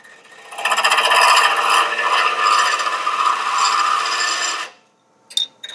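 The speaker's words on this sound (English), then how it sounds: "Almost sound like a chatter tool." A harsh, continuous rasping chatter of a tool against a workpiece, loud and steady for several seconds, then stopping, followed by a few brief clicks.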